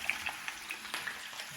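Potatoes frying in a pan give a steady close sizzle with scattered crackles and pops, with no talk.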